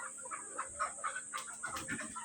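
A Tiger-breed backyard chicken clucks in a short run of soft, rhythmic notes, moderately close, over a steady high-pitched hum in the background.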